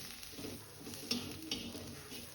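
Masala spices, chole masala and chili powder, frying in a pan while being stirred, with a soft steady sizzle and a couple of light utensil taps against the pan.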